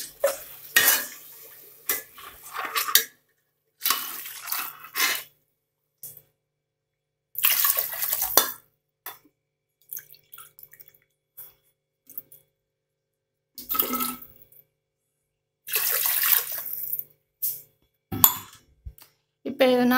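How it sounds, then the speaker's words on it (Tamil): Water poured into a cooking pot while making kodo millet biryani, heard as short bursts of splashing and clinking pot and utensil sounds separated by silences, close and clear. "இப்போ இதில் வாட்டர் ஆட் பண்ணுறோம்."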